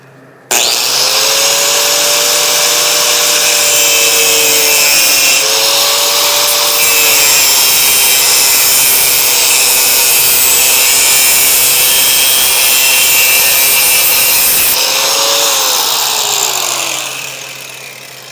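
A cutter grinds through a metal tube for a gas tank in a vise, a loud sustained whining rasp lasting many seconds with slight pitch dips, then trailing off at the end.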